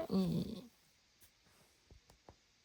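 A dog grumbles in a low, throaty growl up close for about half a second, followed by faint soft rustles and light taps in a quiet room.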